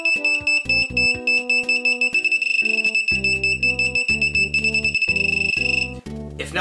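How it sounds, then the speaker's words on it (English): Rapid electronic beeps from an Arduino ultrasonic rangefinder pulse in a steady series, shifting pitch partway through as an object's distance changes, with a constant high whine running underneath. "the unit emits a different frequency beep depending on how close the object is"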